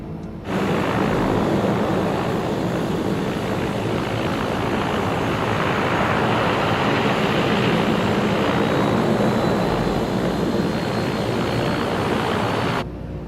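A Black Square Duke Turbine's second engine spooling up in a flight simulator game, a loud, steady broadband turbine roar that starts abruptly and holds evenly for over twelve seconds before cutting off, no talk.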